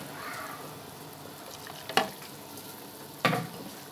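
Okra fries with onion in a quietly sizzling pan, broken by two sharp splashy bursts as tomatoes are dropped in, followed by a renewed soft sizzle.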